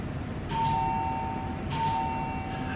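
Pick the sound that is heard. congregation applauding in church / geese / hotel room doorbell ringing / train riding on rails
hotel room doorbell ringing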